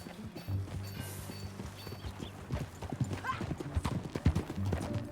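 Hooves clip-clop rapidly in a steady galloping rhythm, with a horse whinnying briefly amid low rumbling background sound, in the video game Red Dead Redemption 2.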